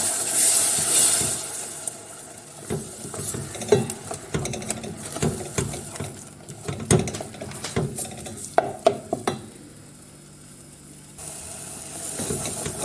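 Grated tomato sautés in a pot while a spoon stirs it, giving repeated scrapes and clinks against the pot over a steady sizzle, with no talking.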